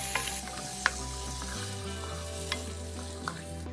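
Minced onions and cubed tomatoes sizzle softly in a pan as they are stirred, with a few sharp clicks of the spoon against the pan over a low hum, no one speaking.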